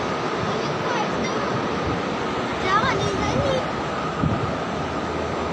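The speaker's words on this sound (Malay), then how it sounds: "Angin kuat, atas langit ada bunyi pelik." Strong wind gusts near Sungai Relong in Taiping, with a steady low hum said to come from the sky, roaring continuously and close up while a voice speaks briefly over it.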